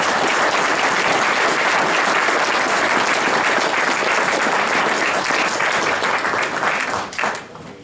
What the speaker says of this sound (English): a round of applause to all of our candidates